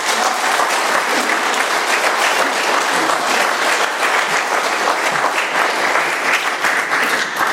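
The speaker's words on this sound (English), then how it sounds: "Let's give Scott another round of applause, that was incredible" Loud, sustained applause from a crowd at an Alcoholics Anonymous speaker meeting in Doylestown, Pennsylvania, a dense, even wash of many hands clapping close by for the full length.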